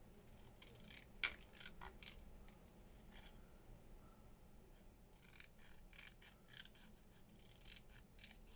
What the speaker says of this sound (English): I'm just going to cut it down